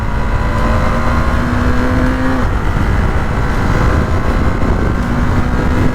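A KTM Duke 390 BS6 motorcycle engine revs hard and close, its whine climbing, dropping abruptly as it shifts gear, then building again under steady road noise.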